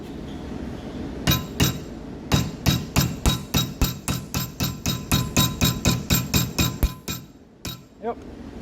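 Repeated hammer blows land on a welded steel test sample from a turbo Miata build, about twenty sharp metallic strikes in a fast steady rhythm that pauses briefly, then continues until the piece cracks, with a couple of final hits.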